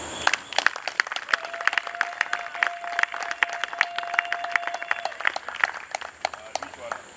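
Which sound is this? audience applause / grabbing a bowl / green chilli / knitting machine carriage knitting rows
audience applause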